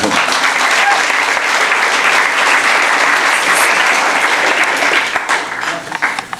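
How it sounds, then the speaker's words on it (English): Audience at a leadership award event gives itself a round of applause, loud dense clapping sustained for about five seconds before thinning out into scattered claps. "I would like you to give yourselves a round of applause"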